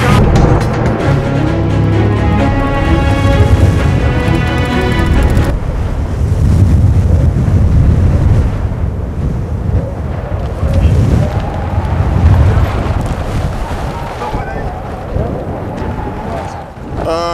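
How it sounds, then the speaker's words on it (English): Strong wind roars and buffets the microphone continuously, loud and gusty, with a speaking voice partly audible beneath it. "It's very windy today."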